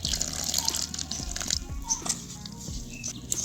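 A little water is poured into a bowl of peanut pakora batter, giving a steady close trickle and dripping splash that runs without a break.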